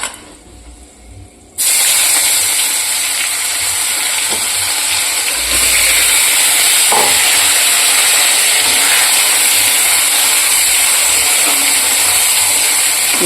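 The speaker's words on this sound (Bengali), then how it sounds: "পেঁয়াজটাকে ভালো করে ভেজে নেবো" Onions sizzle loudly in hot oil in a pan with bay leaf and whole garam masala. The steady, close hiss starts abruptly after a quiet moment and runs continuously without talk.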